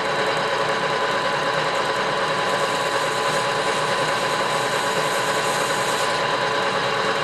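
A lathe in a small fabrication shop running steadily, a continuous mechanical hum with a fine rattling texture and no voices.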